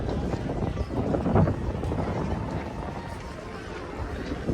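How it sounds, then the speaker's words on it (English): Sudden gusts of wind sweep down Disneyland's Main Street, a steady broadband rush with a brief stronger burst near the middle; no talk over it. "All of a sudden it got really windy down here on Main Street."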